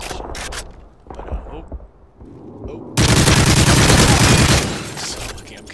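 Rapid automatic gunfire from a first-person shooter video game, a dense loud burst of shots lasting about two seconds after scattered quieter game noises, with a player talking.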